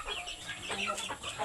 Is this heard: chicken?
yes